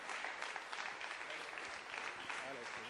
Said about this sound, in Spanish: Y venga ese aplauso